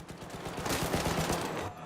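Rapid gunshots in a Call of Duty match ring out in a quick, continuous burst of sharp cracks, loud and close, with no talk over them.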